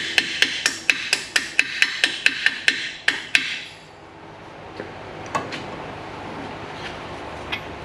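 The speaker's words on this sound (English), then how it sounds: "and tap the wheel cylinder out." A hammer taps out a wheel cylinder on a 1960 Buick, about a dozen sharp metallic strikes in a quick even rhythm that stop abruptly, leaving a faint shop background with a few scattered clicks.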